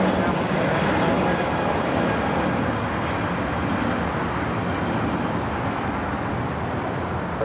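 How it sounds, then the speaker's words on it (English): Virgin Atlantic Airbus A350-1000 taking off at Los Angeles airport, a steady broad jet roar heard from a distance, constant and even for several seconds with faint background traffic. "This is Virgin Atlantic Flight 8 taking off to London Heathrow on the A350 1000."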